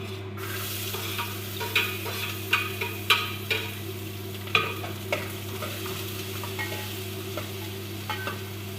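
Plenty of garlic fries and is stirred in a pan for laham, an Arabic dish, with a steady quiet sizzle broken by repeated clinking scrapes of the utensil against the pan and no voices over it.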